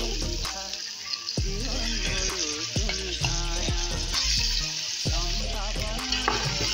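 Marinated chicken pieces fry with onions in a hot pan, giving a continuous, close sizzle with occasional clinks and scrapes, and a tonal background running underneath.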